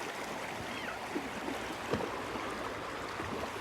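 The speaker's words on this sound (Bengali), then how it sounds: "দেখো এখানে স্রোতটা কত সুন্দর" Clear, fresh river water flows past a shallow riverside stretch, its steady broadband rush continuous and fairly close with a few small splashes, no talking heard.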